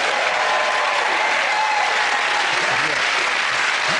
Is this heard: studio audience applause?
yes